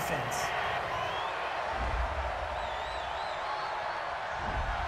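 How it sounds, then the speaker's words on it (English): Stadium crowd at a Tennessee Titans vs Kansas City Chiefs football game reacting angrily to a penalty call, a broad sustained roar of booing and jeering with a whistle or shout rising over it. "this crowd does not like that call"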